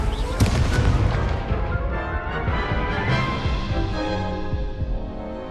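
Confringo fire spell explosion in the Hogwarts Legacy video game, a loud booming blast that rumbles and decays over several seconds amid dense game noise.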